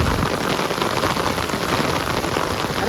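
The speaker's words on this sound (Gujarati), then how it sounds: "બહુ વરસાદ છે." Heavy rain pours steadily onto surfaces at a village farm plot, a dense, loud, unbroken hiss of drops for the whole stretch with no voices.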